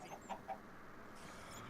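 Ardite chickens in Minecraft Sky Factory 3 let out a few quick, soft clucks close together, fairly quiet over a faint background hum.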